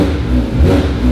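A 2024 Porsche 911 GT3 RS, rebuilt after being totaled, revving in normal mode, a loud close engine roar that surges briefly in one short burst.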